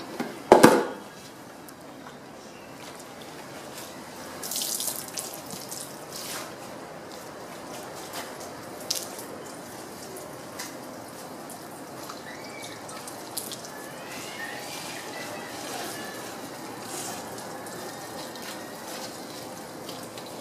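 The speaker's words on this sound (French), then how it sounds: "Donc très important de rincer." Water rinsing the painted bodywork of a Plymouth Prowler after paint correction, heard as a brief close splash followed by a faint ongoing trickle and drips, with a few soft bumps and no talk.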